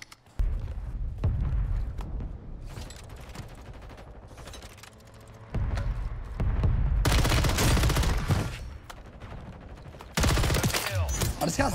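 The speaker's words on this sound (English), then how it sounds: "this guy's like shooting over here" Bursts of automatic gunfire in the online shooter game Warzone 3, loud rapid volleys that start and stop in several separate stretches, some near and heavy, with quieter gaps between.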